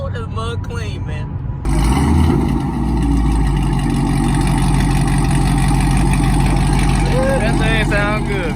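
A Kia Stinger GT at a car meet rumbles at idle with a deep, steady engine drone, close and loud, while people talk nearby.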